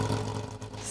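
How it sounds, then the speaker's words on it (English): Porsche flat-six rally car at the Rally di Roma Capitale, engine loud and close with a strong low rumble and revving under load, sustained through the short burst. "Sound of flat 6 engine, it's great."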